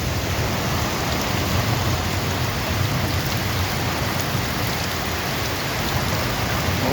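Heavy rain pours down steadily during a thunderstorm, a loud, dense hiss that never lets up, with low thunder rumbling faintly beneath it. No voices.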